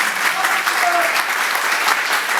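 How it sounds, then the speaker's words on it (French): Steady audience applause at a Wikistage talk on breast cancer awareness in Bouzareah, dense and continuous clapping throughout, with faint voices mixed underneath. "merci pour les applaudissements"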